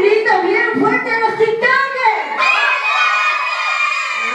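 Children shouting loudly together at a first birthday party, a burst of high excited voices in unison that rises into a sustained group yell and holds to the end.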